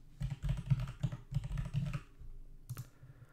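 A username and password are typed on a computer keyboard in a quick run of close, crisp key clicks that lasts about two seconds, followed by a single sharper keystroke.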